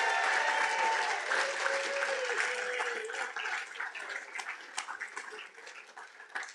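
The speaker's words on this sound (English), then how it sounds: "Please give a loud round of applause for them." An awards-ceremony audience applauds staff after a sailing regatta's finals: sustained clapping, dense and loud at first, thinning into scattered claps toward the end.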